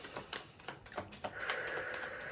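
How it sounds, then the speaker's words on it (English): A deck of tarot reading cards is shuffled by hand close to the microphone, giving rapid, crisp clicking snaps in an uneven burst that settles into a steadier soft riffling whir, with no talking. "I'll do one last shuffle."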